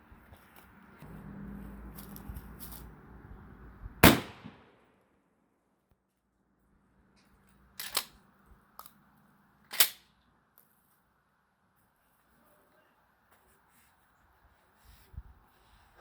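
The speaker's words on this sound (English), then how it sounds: "Going to finish up the video with the 12 gauge 870 Remington." A 12 gauge Remington 870 shotgun fires once through an old front door, a single loud, sharp blast with a short decay, followed by scattered quieter knocks and clacks amid near silence.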